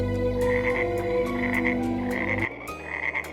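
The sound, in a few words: frog croaking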